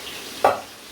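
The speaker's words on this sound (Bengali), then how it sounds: "এই দেখেন আমাদের চিকেন ঢেলে দিচ্ছে।" Marinated chicken hits a hot pan with a sudden sizzling splash, a short loud burst that settles into a quieter frying hiss.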